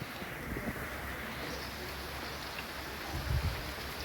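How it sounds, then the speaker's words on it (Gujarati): Soft, steady patter of rain falling in a Gujarat village, faint and continuous, with a low wind rumble underneath. "એ પણ વરસાદ અત્યારે ચાલુ છે"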